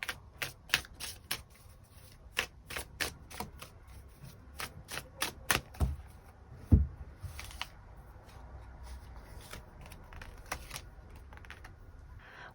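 Tarot cards being shuffled and drawn for a monthly reading, a run of sharp, dry card snaps and flicks in quick bursts, close and clear, thinning out into softer handling rustles.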